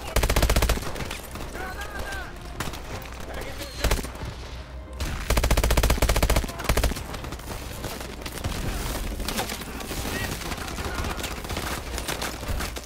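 Gunfire in Call of Duty Advanced Warfare's campaign: dense bursts of automatic fire and heavy shots, loud and continuous with brief pauses, over game sound and someone talking.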